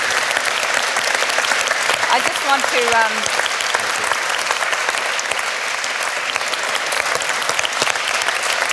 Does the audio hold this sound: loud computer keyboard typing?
no